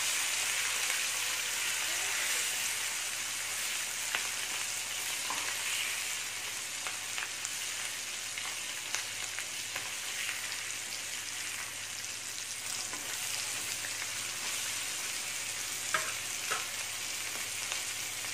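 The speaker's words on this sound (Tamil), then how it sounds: "நல்லா மொறுமொறுப்பாக ஃப்ரை ஆயிடுச்சு" Sardines fry crisp in hot oil in a pan, giving a steady close sizzle with scattered popping crackles throughout and no talking.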